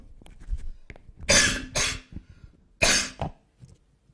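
Three or four harsh coughs burst out up close, spaced irregularly with quiet breathing and small throat sounds between them.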